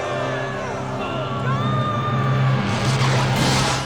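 Game show studio audience roaring and cheering wildly in The Running Man, a loud sustained crowd din that swells toward the end, with whoops rising above it.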